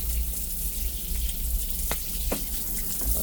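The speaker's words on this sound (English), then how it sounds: "Let's have a look at the pressure of the water, because we've not seen that yet." Water runs from the shower in a standard economy four-berth cabin aboard a DFDS Newcastle–Amsterdam ferry, a steady, moderate-pressure hiss that continues unbroken with no talk.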